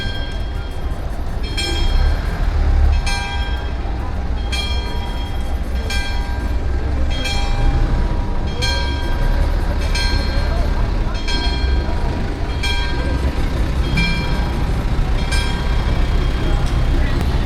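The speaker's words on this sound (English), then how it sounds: "You must listen to the bells. All right, perfect timing, right at 12 o'clock." Church bells ring out at noon in Antigua, Guatemala, a steady series of evenly spaced strikes about every second and a half, heard at a distance over a constant outdoor street hum.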